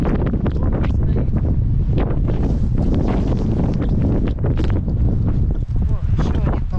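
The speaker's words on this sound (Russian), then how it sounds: "Куда начинается, и рыба начала клевать. Ветер меняется." Strong wind roars steadily into the microphone throughout, loud and buffeting, during winter fishing in a blizzard near a forest cabin in the taiga.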